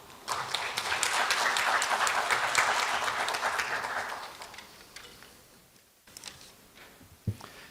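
Audience applause welcoming a dean to the stage at an education forum in Seoul, steady clapping that swells, then fades out after about four seconds, followed by a few faint scattered taps.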